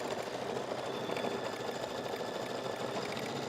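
A sewing machine hums along continuously while stitching fine, flat mesh fabric, a dense, steady mechanical whir that stays close and even from start to finish with no voices over it.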